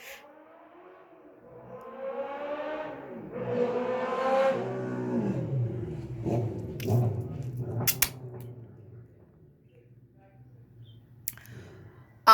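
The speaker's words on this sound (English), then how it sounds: "that was a neighborhood asshole speeding his stupid fucking motorcycle down the street" A motorcycle speeding down a neighborhood street outside, its engine revving up and fading as it passes, heard at moderate distance with sharp clicks near the end.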